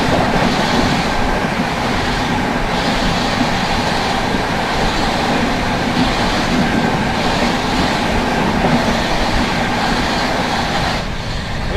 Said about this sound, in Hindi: new Delhi Sealdah Rajdhani express